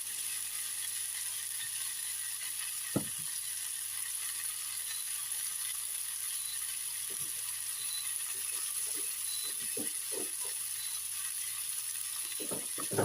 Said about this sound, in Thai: ทอดไฟอ่อนๆไปเรื่อยๆแต่ไม่มีน้ำมันเยอะนะคะ